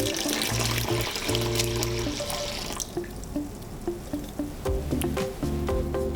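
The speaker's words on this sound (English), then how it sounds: "Add 660 grams of water." Water pours steadily into a bowl holding mature sourdough starter, a continuous splashing trickle that thins into dribbles and drips, with faint kitchen music underneath.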